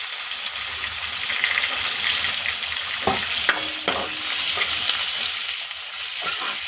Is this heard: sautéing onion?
yes